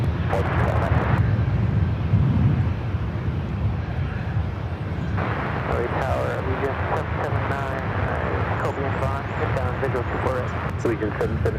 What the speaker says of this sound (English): Next arrival is that United 757 at 300. The flight coming in from Honolulu.